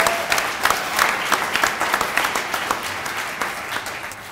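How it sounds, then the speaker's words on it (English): Audience applause at an announcement of the first pediatric medical residency program in Eastern Washington, a steady burst of clapping from a crowd that holds even for several seconds without talk. "Big round of applause for that."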